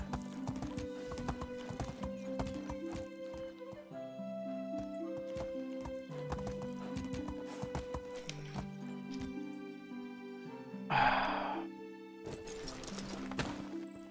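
Horse hooves clip-clop steadily through a medieval village scene in Medieval Dynasty, with a whinny rising near the end over a tonal game music bed; no talking.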